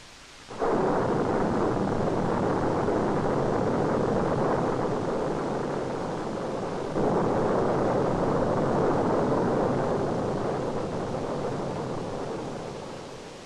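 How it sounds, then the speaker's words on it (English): A Saturn V second stage five-engine cluster by North American is test-fired at full thrust, heard as a loud, steady broadband roar that starts abruptly and holds through to a slight fade at the end, with no talk. "North American has conducted a number of successful firings of the second stage's 5-engine clusters"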